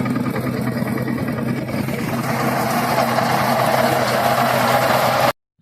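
A Simba 20 mini tractor runs a large Geeta thresher on a chickpea harvest at about 400 rpm, making a constant throbbing engine drone that stays steady, then cuts off abruptly at the end.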